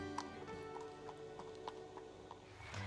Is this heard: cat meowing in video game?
no